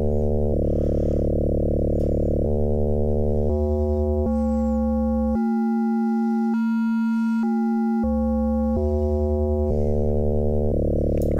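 Reason Thor synthesizer oscillator under frequency modulation from a second oscillator, a steady buzzy tone whose pitch and timbre jump in stepped changes up and back down, loud and continuous with no voices.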